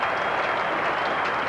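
A crowd at a 1985 England v Australia one-day cricket international at Edgbaston applauds a stroke, a dense, steady wash of clapping and cheering that holds loud throughout the short moment.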